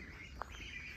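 Birds call in a mowed grassy clearing on Izu Oshima, about 225 metres up. A single short chirp stands out over a faint, continuous outdoor chorus.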